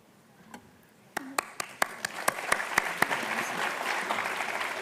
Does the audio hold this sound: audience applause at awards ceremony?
yes